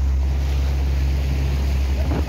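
Sea waves at Al Hoceima beach, a steady loud rumbling wash of surf with heavy wind buffeting the microphone throughout, no talk.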